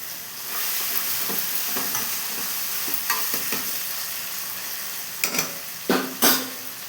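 Tomatoes, tamarind and chili powder sauté in a pan for a fish curry, giving a steady close hiss of frying. Occasional stirring scrapes rise louder near the end, and no one speaks.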